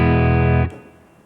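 A Les Paul electric guitar with humbucker pickups rings out a loud dry chord with no reverb, then is cut off sharply and fades away.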